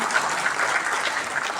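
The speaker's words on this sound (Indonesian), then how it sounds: "kita berikan tepuk tangan dan apresiasi kepada narasumber kita." Audience at a discussion forum in Jakarta giving steady, dense applause for the speaker, many hands clapping continuously at an even level with no pause.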